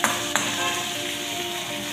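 Fish curry (macher jhal) frying in a pan, giving a steady close sizzle with a brief clatter near the start, alone without voices.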